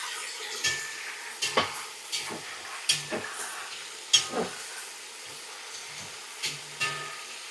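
Meat fries in oil in a deep kazan for Tashkent plov, a soft steady sizzle broken by repeated scraping and clanking of a utensil stirring against the metal pot.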